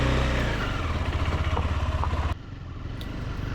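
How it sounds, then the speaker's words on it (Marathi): A motorcycle engine chugs with a rapid, pulsing low throb while the rider turns it on rocky laterite ground, then the sound drops away abruptly into a quieter idle near the end. "या कातळ भागावरती बाईक टर्न करायला अशी काहीतरी कसरत करावी लागते"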